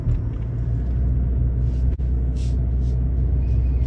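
A Ford Maverick hybrid's gasoline engine runs at night with a steady low rumble and road drone, heard from inside the cab, with one brief dropout partway through.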